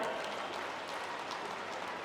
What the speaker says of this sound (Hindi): हमारे लिए ऐसे युवाओं का अभिनंदन करो जोरदार ताली बजाकर